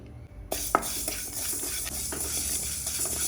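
Fenugreek seeds, a couple of spoonfuls, dry-roasting in a pan for pickle, with a faint sizzle and repeated scraping, clinking stir strokes against the metal, close and steady with no talk.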